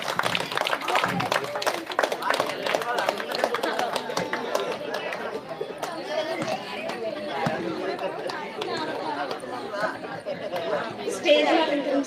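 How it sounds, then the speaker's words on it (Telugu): An audience at a junior college students' get-together in Nakkapalli bursts into dense clapping that gradually thins out, mixed with steady crowd chatter and voices. "క్లాప్స్."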